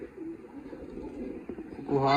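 Pigeons coo softly in a low murmur nearby, with a voice breaking in at the end.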